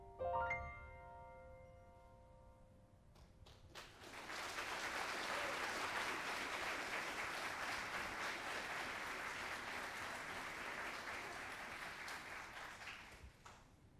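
After a brief chime, an audience at an awards ceremony bursts into sustained applause for students. The clapping is dense and steady for about ten seconds before tapering off.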